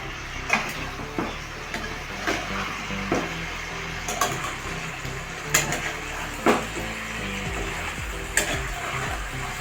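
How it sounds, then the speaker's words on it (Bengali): Pumpkin and shrimp sizzle in a hot pan with ginger paste as a spoon stirs and scrapes, steady frying hiss broken by repeated sharp clinks against the metal, close and alone without speech. "সবগুলো ভালো করে কষে নেব একটু আদা বাটা দিয়ে দিলাম ভালো করে কষে নেবো"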